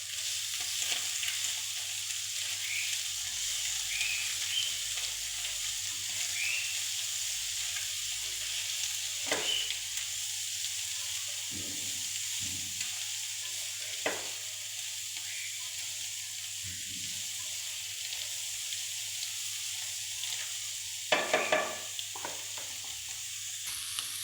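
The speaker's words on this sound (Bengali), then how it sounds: "নেড়ে চেড়ে নিতে হবে এটা।" Cabbage roll filling seasoned with Maggi magic masala and black pepper sizzles steadily in a pan, a constant close frying hiss broken by occasional scraping stirs and light utensil clicks.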